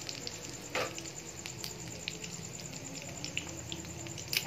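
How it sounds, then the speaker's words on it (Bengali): White cumin seeds sizzle in leftover oil from frying pointed gourd, giving a quiet, steady crackle with scattered small pops and a brief louder burst, with no voices. "দেখো ওর মধ্যে একটু আমি জিরে ফোড়ন দিয়ে দিলাম"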